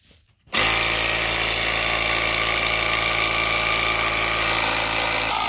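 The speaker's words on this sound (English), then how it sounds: "So this little compressor, it ain't all that great." Small air compressor inflating an old truck tire on a long-abandoned 1981 Ford F100, kicking on abruptly after a brief quiet moment and then running as a loud, steady, buzzing drone close by.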